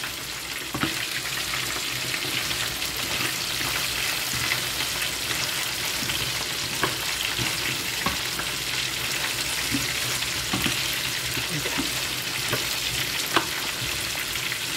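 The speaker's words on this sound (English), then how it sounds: "Now we're gonna mix it in to get them coated in that beautiful sauce right there." Prawns are stirred through a devilled sauce in a frying pan, giving a steady sizzle with intermittent scrapes and clicks of the utensil throughout, close and continuous with no voices.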